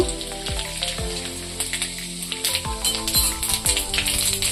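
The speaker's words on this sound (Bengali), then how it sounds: "তেলটা গরম হয়ে গেছে, ওর মধ্যে গোটা জিরে দেব" Whole cumin seeds sizzle and crackle in hot white oil in a kadai, a dense fizzing spatter with repeated sharp pops and clinks throughout, fairly close and loud.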